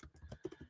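Rapid keystrokes clatter on a computer keyboard, a quick run of close, soft clicks lasting under a second with no voice over them.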